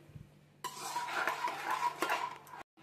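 Sugar being stirred into rice kheer in a pot, a steady scraping and clinking of a spoon against metal for about two seconds, fairly close, ending abruptly; no talk.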